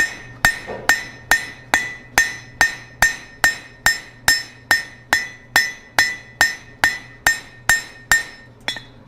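Steady hammer blows ring out on an anvil as hot steel is forged into a fire poker, about two strikes per second, each sharp, bright and close, with a metallic ring between strikes.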